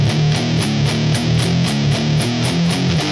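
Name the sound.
Electric guitar riff, soft parallel picking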